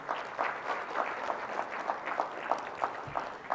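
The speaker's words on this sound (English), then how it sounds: "Let's give them a round of applause, please." A live event audience gives a round of applause, a thin, fairly soft spatter of claps that comes in loose, rhythmic pulses from a small crowd.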